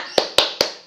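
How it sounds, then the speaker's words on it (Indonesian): Three crisp hand claps in an even rhythm, close and sharp, performed as the Indonesian 'tepuk semangat' spirit clap during a classroom ice-breaker. "bagaimana kalau kita ice breaking terlebih dahulu, yaitu dengan tepuk semangat"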